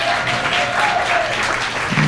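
A comedy show audience in Boulder applauds, a brief burst of steady clapping filling the room, moderately loud with some crowd noise beneath it.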